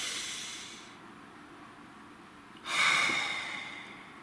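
A deep breath, a soft airy inhale followed by a stronger, louder exhale, close and quiet with no talking.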